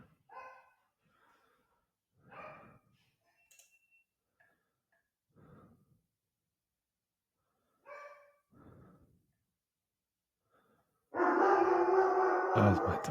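Dogs bark indoors in short, spaced bursts that are faint and somewhat distant, with a long pause between them, followed by a loud steady noise at the end.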